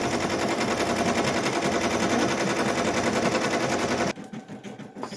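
A multi-needle embroidery machine stitching a design onto a pillowcase, a loud, steady, rapid mechanical rattle that holds constant, then drops off sharply near the end into quieter clicking.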